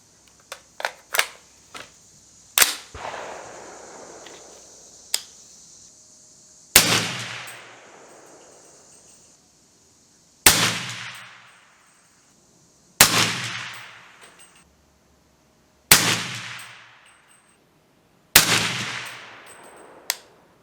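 Six sharp, echoing rifle shots ring out from a 300BLK with a V Seven 6.5-inch fluted barrel, firing 17.8-grain H110 loads in Remington brass. The shots come every few seconds, each with a ringing decay, after some light mechanical clicks.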